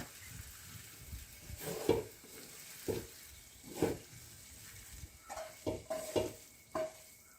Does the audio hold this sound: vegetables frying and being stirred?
yes